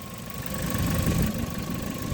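A Ford Focus engine idling steadily during a coolant drain and refill, a close, even mid-range hum with a faint tonal whine and no talking.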